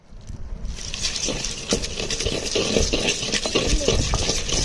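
Cooked tomato and onion are mashed and stirred in a stone pot for sambar, giving continuous rough scraping and squelching strokes that stay close and fairly loud with a low background rumble.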